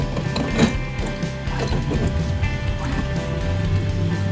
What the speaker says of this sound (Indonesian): ketika kita putar gearnya ini berasa terlalu berat dan ada bunyi seperti ini ya guys